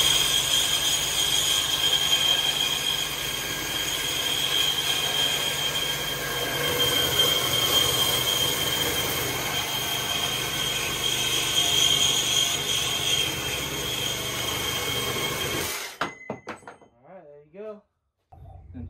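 Makita 40V and Milwaukee Super Sawzall 18V reciprocating saws cutting quarter-inch thick material, a loud steady buzzing roar running continuously for about sixteen seconds before cutting off abruptly, followed by brief quieter sounds at the end.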